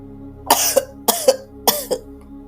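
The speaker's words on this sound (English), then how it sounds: "He began to cough desperately." Three harsh coughing fits, each a quick double cough, come close and loud with short pauses between them.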